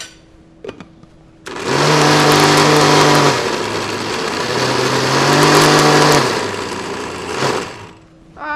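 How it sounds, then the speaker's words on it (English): A blender running loud and steady for several seconds as it purees a basil spread, with the motor pitch dipping and rising as the load shifts, then cutting off near the end. "gonna process it in the blender"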